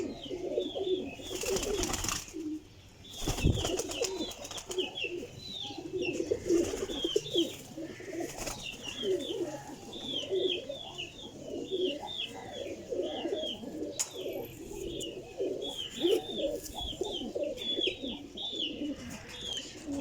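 A loft of Teddy Salara pigeons keeps up continuous overlapping coos and throaty murmurs, close and busy, with occasional thumps and higher chirps; no speech is heard.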